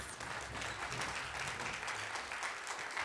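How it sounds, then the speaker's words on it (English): Steady applause from a crowd at a high school band and orchestra concert fills the whole stretch, even and continuous without a break. "Give them a round of applause."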